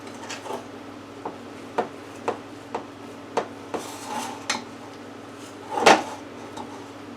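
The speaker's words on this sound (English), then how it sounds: "Give this a nice stir one last time." Chocolate chip cookie dough stirred in a bowl, with a spoon knocking against the sides in a slow series of separate taps and scrapes, close by, ending in one louder clunk, with no talking.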